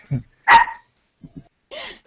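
A dog barks several times at close range: two sharp barks, then a couple of soft short yips, then a final bark after a pause.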